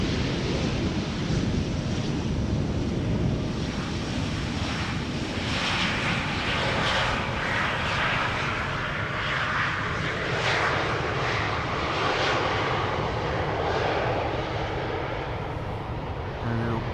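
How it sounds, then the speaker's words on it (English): A BA CityFlyer airliner arriving from London City lands at Amsterdam Schiphol Airport, giving a loud, continuous engine roar that rushes steadily for many seconds, mixed with wind buffeting on the microphone. "This is BA City Flyer arriving from London City, number 190."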